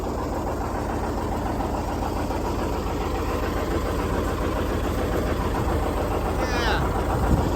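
A John Deere 730 tractor engine runs steadily at close range, a continuous low mechanical drone with a faint knocking pulse, holding at an even level throughout with a brief high squeak near the end.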